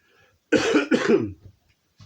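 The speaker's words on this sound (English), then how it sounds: "I have to apologize for the coughing" Two harsh coughs in quick succession, close and loud, followed by silence and a faint breath.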